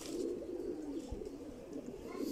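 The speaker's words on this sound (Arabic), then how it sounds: "انا هسه مطير حمام عراقي" Iraqi pigeons cooing in a soft, continuous low murmur, close by, with a steady background hum and no talk.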